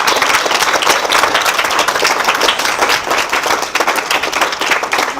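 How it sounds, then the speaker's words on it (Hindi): Loud, dense applause from a village crowd at a chaupal gathering with a sarpanch in Dulheda, Bahadurgarh, Jhajjar, Haryana, steady clapping filling the space without pause. "एक बार जोरदार तालियां।"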